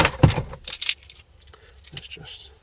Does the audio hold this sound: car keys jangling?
yes